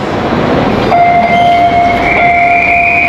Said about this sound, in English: I'm in the train station now